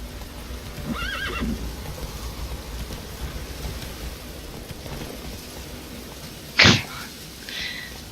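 Roach, Geralt's horse in the video game The Witcher 3, gives a brief snort and a short whinny amid soft hoof clops and ambient game background, moderately close.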